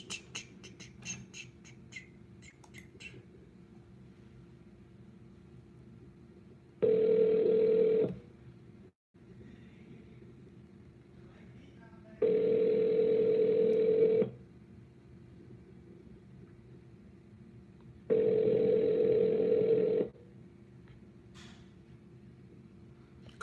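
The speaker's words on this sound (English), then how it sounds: "Come on, Calvin, answer the phone." A call-in line rings back three times, long even electronic tones spaced several seconds apart over a low hum, with faint clicks before the first ring.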